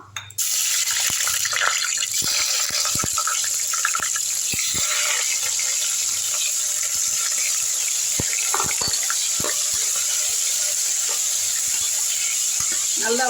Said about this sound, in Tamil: அடுத்து கத்திரிக்காய் இதே எண்ணெயில் போட்டுக்கலாம்